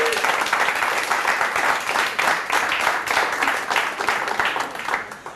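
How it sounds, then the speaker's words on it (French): An audience applauds in tribute to Charles Drew, dense steady clapping from many hands that carries on throughout and fades a little at the end. "je vais vous demander des applaudissements pour lui"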